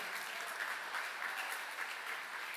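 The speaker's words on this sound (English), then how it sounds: "Let's give those two people a huge round of applause." Audience applause at a benefit auction for two pledging bidders, a dense even wash of many hands clapping, steady and moderately distant without talk.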